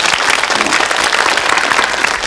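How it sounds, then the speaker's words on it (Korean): A studio audience at a Korean television variety show applauds loudly and steadily, a dense wash of many hands clapping throughout with no talk over it. "박수 한번 보내주세요"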